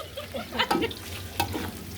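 Boiled eggs and onions frying together in a pan, a close sizzle broken by a couple of stirring scrapes and clatters against the pan.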